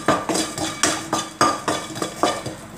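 A spatula scrapes and clanks rhythmically against a pan while chili, garlic and salt are stir-fried, about eight quick, evenly spaced strokes, loud and close, with a faint sizzle underneath and no talking.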